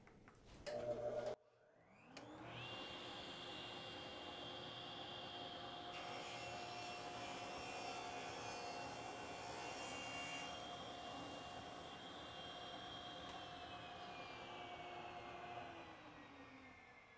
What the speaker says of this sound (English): I'm going to turn the dust collector on and we'll run that.